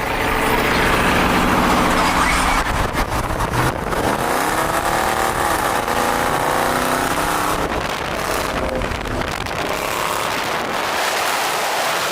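A Dodge Challenger convertible with a newly fitted aftermarket exhaust drives in traffic, its engine a loud, steady rumble with swelling revs and shifting pitch throughout, other traffic mixed in.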